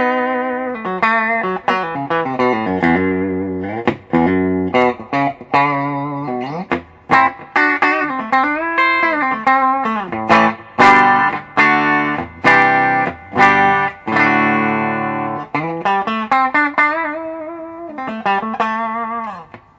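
Electric guitar played through a Kustom Defender amp with the bright switch engaged, a clean, bright tone in loud picked phrases and sustained chords that ring out alone for about twenty seconds.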